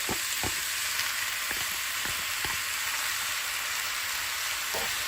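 Venison and tomatoes fry in a pan with a steady, close sizzle, with a few soft stirring knocks scattered through it and no talking.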